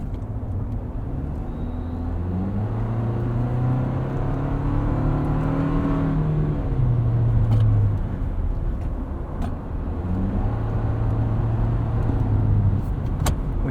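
A 2024 Toyota Tacoma SR XtraCab pickup with an eight-speed automatic drives along a back road. Its engine drone and road noise stay steady and close, rising and falling as the truck climbs through the gears.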